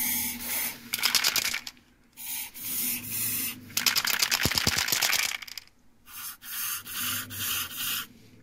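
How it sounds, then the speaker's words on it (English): Grease sprayed from a can onto the rear brake parts of a Vauxhall Zafira B during a brake disc change: several short hissing bursts with pauses between them, close and fairly quiet. "Spray some grease inside."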